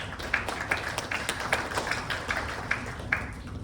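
An audience claps at a gathering, a dense run of close handclaps with regular sharper peaks about every half second, steady and moderately loud throughout.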